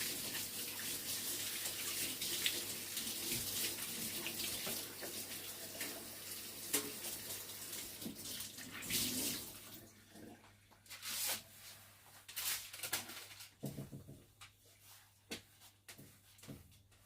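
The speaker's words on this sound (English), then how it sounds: "wash my hands." Tap water runs steadily for several seconds while hands are washed in a kitchen, then it stops and leaves quieter splashes and small clatters.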